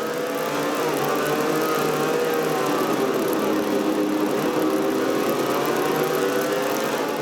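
Onboard sound of an Australian driver's race car in a Red Bull supercar series race at Circuit of the Americas, a steady, loud engine drone with shifting pitch that holds throughout, close and unbroken.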